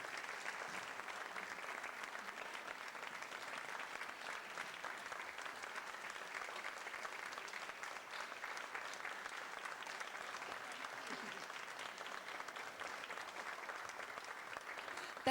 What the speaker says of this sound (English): One more big round of applause for Jim Swick from Mayfield, Kentucky.